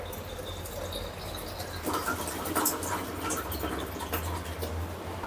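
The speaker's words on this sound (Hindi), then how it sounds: "अब इसे पानी से भर देंगे पूरा।" Water poured into a ceramic pot to make detox water, a steady broadband rushing fill that swells and splashes slightly louder midway, close and continuous with no voices.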